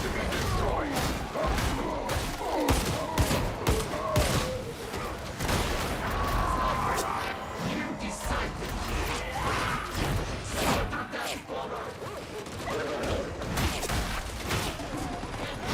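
Gunfire from the Warhammer 40K Skitarii video game: dense, rapid volleys of shots and heavy impact thuds that continue for the whole stretch, mixed with mechanical clanks, while someone talks over the action.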